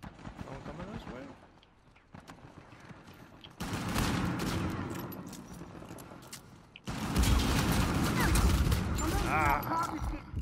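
Gunfire from an Uncharted 4 multiplayer match, bursts of shots and fusillades growing louder and denser in the second half, mixed with game mechanisms and someone talking over the action.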